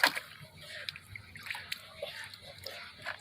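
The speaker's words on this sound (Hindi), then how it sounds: "ये तर रहा है पानी में अंदर स्विमिंग पूल में।" A pet rabbit paddles and splashes in a swimming pool, with soft, irregular sloshing and dripping water sounds, faint and close, and a person talking quietly in the background.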